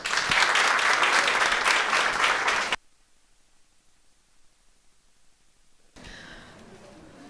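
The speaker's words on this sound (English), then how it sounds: "Please join me in giving him one more round of applause." A crowd claps loudly and densely for a few seconds, then stops abruptly, leaving near silence before a softer burst of noise returns.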